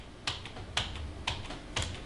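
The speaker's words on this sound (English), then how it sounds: "At that point I start tapping the delete key" The delete key on a computer keyboard is tapped four times at an even, unhurried pace, each a crisp close click over a faint hum, with no talking.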